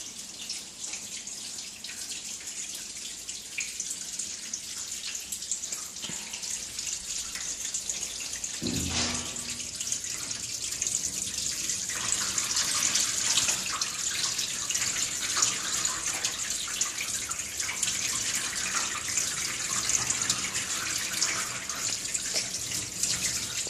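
Running water from a tap during a dog's bath at a veterinary clinic, a steady close hiss of flowing and splashing water lasting throughout, with a brief clunk partway through and no talking.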